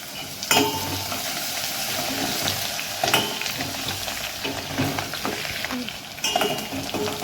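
Garlic frying in tempering oil with a steady sizzle, broken by scraping strokes of a stirring spoon against the pan, close and moderately loud.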